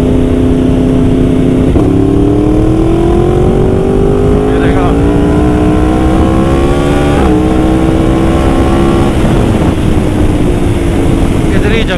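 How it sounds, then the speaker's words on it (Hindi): A Yamaha R1 sport bike pulls hard at full throttle in fourth gear, its engine note climbing steadily in pitch as it accelerates, loud and close with rushing wind throughout and a brief dip before rising again. "वैसे उसका थ्रॉटल पूरा का पूरा खोल दूंगा एक बार देखना क्या से रिएक्ट कर दिया."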